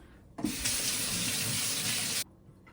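A water tap gushes steadily for about two seconds, then shuts off abruptly, a close, clear stream with no voices.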